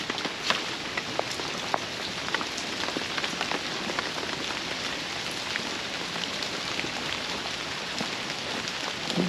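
Heavy storm rain pours steadily onto hard surfaces, a dense continuous patter of drops with occasional louder splats, close and unbroken throughout with no voices.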